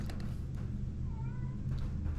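A cat gives a soft, drawn-out meow at a moderate distance, heard alone against a low, steady background hum.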